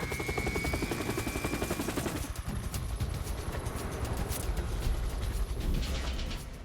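A rescue helicopter in the Everest region runs up for takeoff, its rotor thumping fast and loud with a steady mechanical whine underneath, close by and continuous, with no talk.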